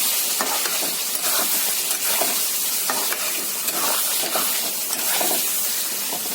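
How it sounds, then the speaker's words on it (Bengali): Squash fries with spices in a pan, giving a steady close sizzle broken by rhythmic scraping and clinking from a spatula stirring through the pieces. "এখন ভালো করে আমি মশলার সাথে স্কোয়াশটা মিশিয়ে নেব।"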